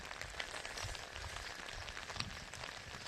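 Rain falls steadily in a forest area during the rainy season, a dense even patter with a few sharper drops, close and fairly soft, with no voices.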